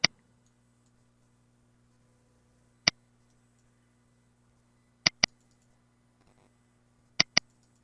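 A computer mouse clicks crisply in a quiet room, with single clicks spaced seconds apart and then quick double clicks, close and sharp over a faint steady hum.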